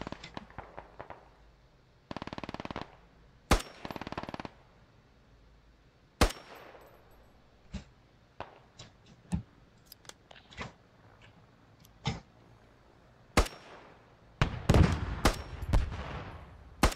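Scattered gunfire in the military shooter Squad, with sharp single shots and short bursts cracking at irregular intervals, some close and loud, others distant, plus a couple of sustained rattling volleys.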